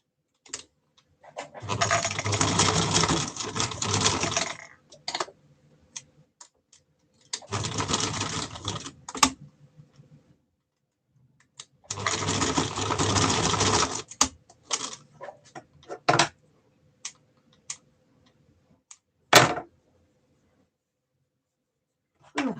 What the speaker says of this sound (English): Just need to fold this over and sew it close so it doesn't pull out.